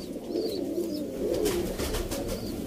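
Sialkoti pigeons coo close by in soft, repeated throaty rolls that are steady and unbroken, with no voices over them.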